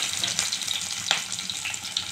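Onion, cumin, mustard seeds and curry leaves frying in hot oil for a Telugu fish curry, a steady close hiss and sizzle throughout with faint crackles.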